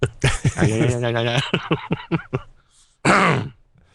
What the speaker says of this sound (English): Watching you clear your throat's pretty awesome.